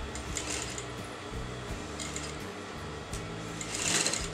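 A sewing machine stitches the neckline of a kameez, running in a steady continuous whir with brief pauses and restarts, close and fairly loud with no talking.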